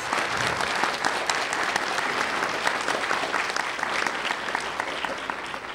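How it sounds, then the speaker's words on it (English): An audience at a 2015 regional spelling bee claps for the finalists, a dense, steady round of applause filling the room with no speech over it. "Let's give them a round of applause"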